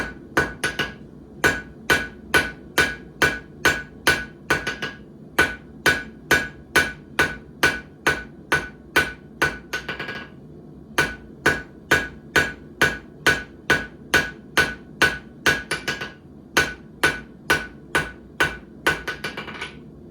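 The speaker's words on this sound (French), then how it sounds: "Mon marteau tape toujours au même endroit." A blacksmith's hammer beats hot metal at the forge in a fast, even series of sharp, ringing strikes. The steady rhythm pauses briefly a few times, and no one speaks.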